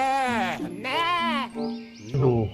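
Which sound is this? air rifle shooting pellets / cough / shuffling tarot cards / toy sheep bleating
toy sheep bleating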